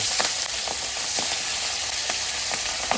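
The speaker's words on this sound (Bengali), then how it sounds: "এবার মাছটা দিয়ে দেবো হ্যাঁ মাছ ফোটে" Fish fries in hot oil with a dense, steady hiss and scattered sharp sputters and pops close by, and no one talking.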